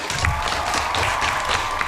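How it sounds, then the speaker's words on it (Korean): A classroom of students applauds in a steady, dense burst of clapping that fills the room briefly with no talking over it. "박수"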